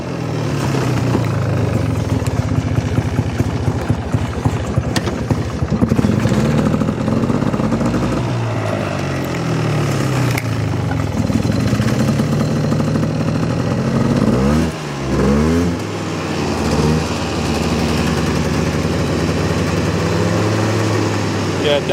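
A Polaris ATV engine in two-wheel drive churns through a mud crossing, revving and labouring with rising and falling pitch, loud and close, while people talk over it.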